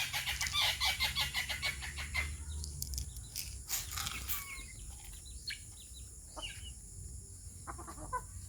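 Chickens clucking and squawking close by in a rural backyard, a busy burst of calls at the start that thins into scattered clucks over steady outdoor background noise, with no talking.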